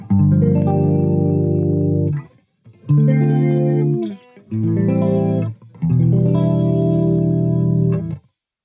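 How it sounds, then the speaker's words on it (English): Minor 7 chords strummed on an electric guitar through chorus and light distortion effects, four separate ringing chords with short gaps between them, close and loud with no speech. "Alright, so this is how these chords sound pretty much."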